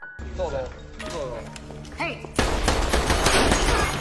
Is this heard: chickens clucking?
no